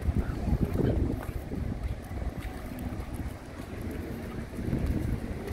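Wind buffets the microphone at a seaside plaza on the coast, a steady low rumbling roar with gusty swells and no clear talk over it.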